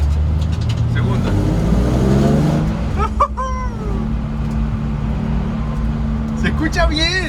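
A Nissan 350Z in second gear on a short test pull, its engine droning loud and rising in pitch, then falling back to a steady cruise under someone speaking Spanish.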